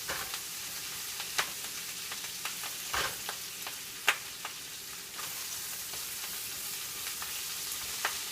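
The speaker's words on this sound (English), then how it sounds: "You can also cut up the kale and spinach a little bit with the spatula here." Kale and spinach cook down in a hot pan with a steady sizzle while a spatula chops and scrapes through the greens, giving scattered sharp clicks and taps across the frying hiss.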